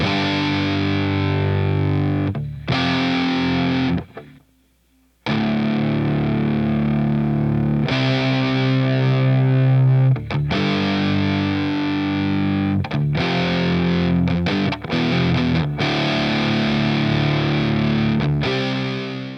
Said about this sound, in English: Moving on to the heavy, overdriven guitars that come in.